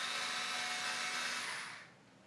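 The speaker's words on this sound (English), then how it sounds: "Some cases come with thumb screws, and you can remove them with your fingers, or a power screwdriver." Power screwdriver whirring steadily as it backs out a computer case screw, close and loud, then winding down abruptly near the end.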